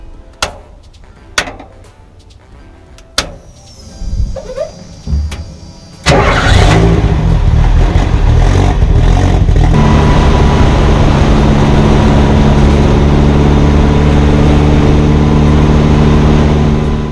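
A Baja Bug sits quiet at first with a few sharp clicks and a short cranking attempt, then the engine fires and keeps running loudly, its revving drone holding strong to the end.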